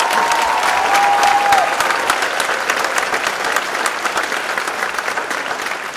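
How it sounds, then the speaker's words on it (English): A large graduation audience at Nellie E. Thornton High School applauds in a dense, sustained roar of many hands. The sound holds steady for several seconds and then gradually thins. "So let's give another round of applause."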